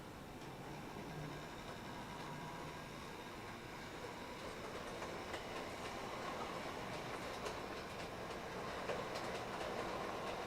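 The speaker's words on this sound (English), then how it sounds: "They just allow the locomotive to push the train" On30 scale model locomotive pushing a train of cars backwards along the track, giving a soft continuous rolling rumble with faint wheel clicks that grows a little louder toward the end.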